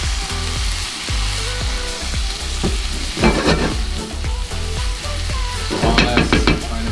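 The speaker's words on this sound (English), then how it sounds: "I just mix the eggs in the pan, just like this." Beaten eggs for a lobster tail omelette sizzle and fry steadily in a hot pan while being stirred, with loud continuous crackle and occasional scraping strokes, and no talking.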